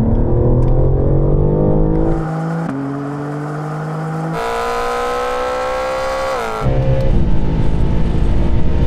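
A BMW M Coupe pulls hard in third gear from a roll at about 50 mph during a drag race, the engine note climbing steadily through the rev range, dropping briefly at a shift and then rising loud and close again.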